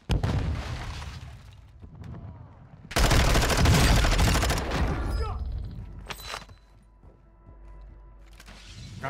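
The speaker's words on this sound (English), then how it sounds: "Throwing a stun grenade!" Call of Duty gunfire and a stun grenade on the Ashika Island map, a sudden loud burst of shots and a booming blast dominating the middle, with quieter firing and game noise before and after.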